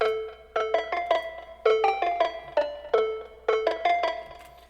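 A hard trap beat built in FL Studio with a flanger spreading it between left and right channels: bright synth plucks strike in quick repeating phrases of four or five notes, each decaying fast, with no voice over them.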